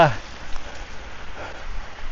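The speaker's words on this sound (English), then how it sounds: "it is very fine, very steady rain, and it's been raining for days on end now" Very fine, steady rain falling without wind during a prolonged downpour in Wellington's Brooklyn area, heard as a soft, continuous hiss close by with a brief murmur of voices at the start.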